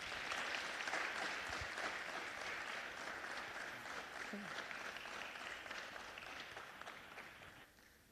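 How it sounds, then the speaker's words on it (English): At a city council meeting, the audience gives the youth council steady applause as its members come forward, an even wash of many hands clapping, fairly distant and quiet, that carries on without a break before easing slightly at the end. "Let's give them a round of applause as they come."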